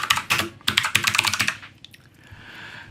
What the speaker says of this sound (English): if I click in there, again I will get my single line of text and I can now type that in.